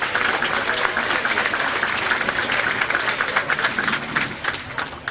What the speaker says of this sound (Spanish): un aplauso fuerte a él